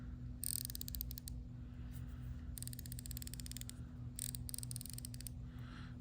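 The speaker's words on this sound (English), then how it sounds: "Let's hear the drag clicker." Drag clicker on a Bearking Zeus BFS baitcasting reel, freshly oiled, ratcheting in three fast bursts of rapid metallic clicks, close and crisp over a steady low hum with no talking.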